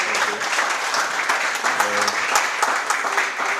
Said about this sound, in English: Can you have a little bit of applause for this?